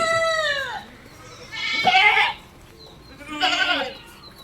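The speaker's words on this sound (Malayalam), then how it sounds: "മൊത്തം എട്ട് ആടുകൾ കേട്ടോ" Three loud bleats from crossbreed dairy goats, close by, separated by short quiet pauses.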